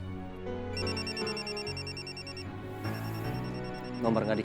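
A mobile phone ringtone plays as a looping electronic melody of moderate loudness, with background sounds and voices underneath.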